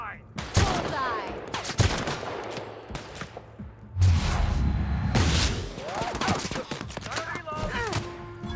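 Sniper and rifle fire in The Outer Worlds sound off in sharp, loud bursts of several shots, with chaotic combat noise and shouted voices between them.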